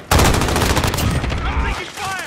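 Dense automatic gunfire from Call of Duty: Modern Warfare rattles loud and close in a continuous burst, with game radio chatter faintly mixed underneath.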